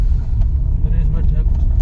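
A car drives along a road with a steady low engine rumble and road noise, close and loud, while someone talks over it.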